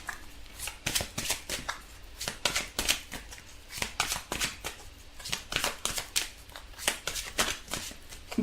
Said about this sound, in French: on va tirer une carte dans l'oracle des amoureux, dans les anges de l'amour